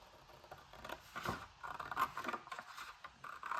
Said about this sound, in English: I should have used my larger scissors.